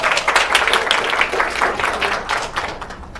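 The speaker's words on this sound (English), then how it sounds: "So please give Michael a round of" An audience claps at a tech bootcamp info session, a dense burst of applause from a room of people that holds steady and then fades.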